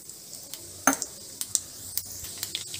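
Mustard seeds, cumin and fenugreek go into hot oil in a pan: a continuous faint hiss with scattered small pops and crackles close by, and no one speaking.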